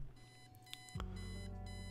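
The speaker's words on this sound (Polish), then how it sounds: "Dzwoni budzik." An alarm clock rings in the video game Kathy Rain, a steady electronic tone that shifts pitch partway through and keeps sounding, faint and alone.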